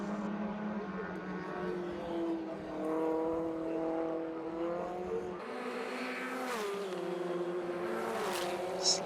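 Formula Ford 1600 race cars at Kirkistown circuit, engines droning steadily as they pass, one car's pitch rising and falling before another approaches nearer and louder, with no talk.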